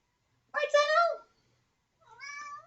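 Two cats meow indoors, one louder drawn-out meow followed after a pause by a shorter, softer one, close to the microphone.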